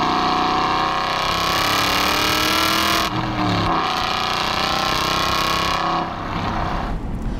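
A supercharged 600 hp Aston Martin V8 Vantage accelerates on a damp, greasy road, its engine a loud, sustained roar that climbs steadily in pitch, with brief shifts and dips around gear changes, heard from inside the car.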